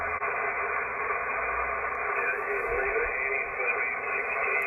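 Steady QRN atmospheric static hissing from a ham radio receiver on SSB, a dense band-limited rush of noise with faint crackles, constant and fairly loud throughout with no voice.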